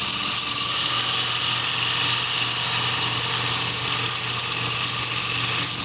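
Belt grinder motor running steadily while a knife is sharpened, a loud continuous whine and hum with no pauses, close by.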